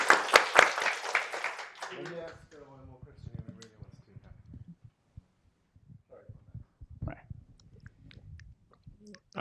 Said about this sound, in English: I'd like to give a big applause to panelists, David, Ryan, and Grace.